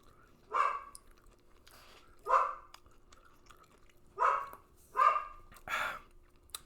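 Several indoor dogs bark in sharp single barks, five loud barks spaced irregularly over a few seconds, close by in a quiet room.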